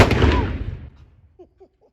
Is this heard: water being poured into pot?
no